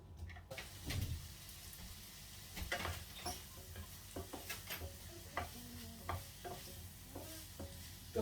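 Vegetables for a Maltese rabbit stew fry in a pan, a soft steady sizzle broken by repeated scraping stirs and clinks of a utensil, close and fairly quiet, with no speech.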